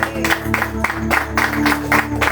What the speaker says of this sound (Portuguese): Bate palmas para Jesus, amados irmãos.